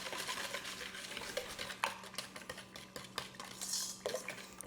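Sides of a KitchenAid mixer bowl being scraped while making chocolate ice cream: close, irregular scrapes and soft clinks of the utensil against the bowl, with short pauses between strokes.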